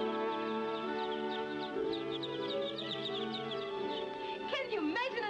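Newly hatched chicks in an incubator of hatching eggs peep continuously in high, busy chirps, close by and steady, with a low background hum and a brief swooping vocal sound near the end.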